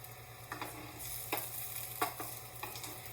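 Garlic frying gently in a pan for pork osso buco, a soft steady sizzle with a few stirring scrapes, close and fairly quiet, with no talking.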